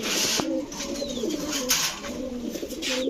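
Pigeons, including China Khaki birds at a pigeon dealer's, coo close by in soft, throaty, repeated calls that overlap one another in a continuous murmuring rhythm.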